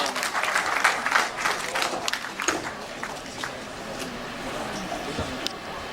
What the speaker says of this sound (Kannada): ಚಪ್ಪಾಳೆಯೊಂದಿಗೆ ಸ್ವಾಗತಿಸಿ